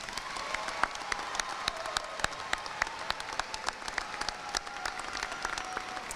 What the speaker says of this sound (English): Let's please give these students a round of applause.